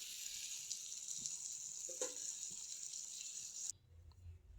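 Water poured into a pan of okra and potato curry, a faint steady hiss and gentle pouring rush that stops abruptly near the end, leaving quiet low hum.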